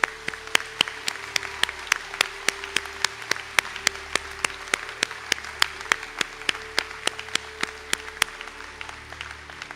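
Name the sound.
applause for conferred candidates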